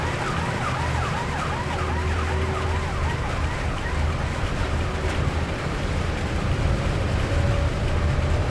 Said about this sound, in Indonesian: Ada ambulan di belakang.